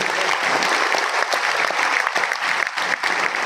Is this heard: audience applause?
yes